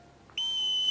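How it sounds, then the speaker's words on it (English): A sharp whistle is blown in a Harry Potter film scene, a single sustained shrill tone that starts abruptly and holds steadily to the end, loud and clear over a quiet background. "On my whistle."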